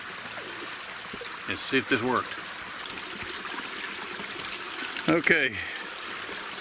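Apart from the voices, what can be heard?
water flowing from ram pump supply pipe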